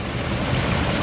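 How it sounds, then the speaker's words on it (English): Waterfall pouring down into a pond along a walking loop in Tucson, a steady broadband rush of falling water heard close and continuous with no voices. "it creates this waterfall"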